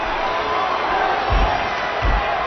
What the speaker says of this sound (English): listen to this crowd show their appreciation for these amazing competitors?